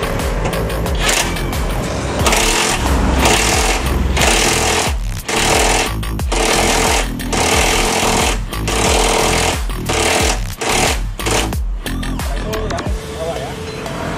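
A pneumatic impact wrench hammers on the rear shock absorber nut of a Daihatsu Terios or Toyota Rush, loud, harsh rattling bursts separated by short gaps, with a mechanic talking around them.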